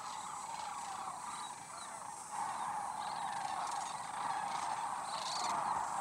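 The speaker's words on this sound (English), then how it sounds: "both havens for migrating waterfowl." A flock of migrating waterfowl calls at a Texas wildlife refuge, a faint, distant chorus of overlapping honks and gabbling that continues without a break.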